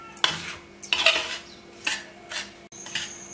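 Karanji dough is mixed with powdered sugar in a bowl, heard as a few distinct spoon scrapes and clinks against the dish at uneven intervals, close and fairly clear with no talking.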